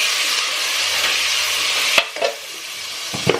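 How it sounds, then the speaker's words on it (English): Frozen tomatoes tumble into a hot pan of browned onions and bay leaf for a Bengali fish curry, a steady close sizzle with a few sharp clattering stirs near the end. "I had some frozen tomatoes in my freezer, so I'm gonna add the tomatoes now."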